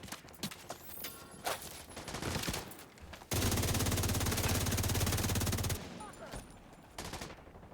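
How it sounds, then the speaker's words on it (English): Enemy gunfire from The Division 2 rattles as a loud, sustained burst of automatic fire lasting a few seconds, preceded and followed by scattered shots, footsteps and game effects. "I love how he's just still shooting me while in cover."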